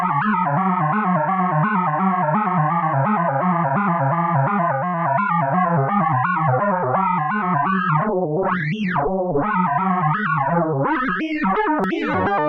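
Make Noise tELHARMONIC Eurorack module heard from its phase modulation output, a steady, buzzy harmonic drone with chorus-like shimmer that later breaks into swooping, warbling sweeps, loud and continuous without any voice.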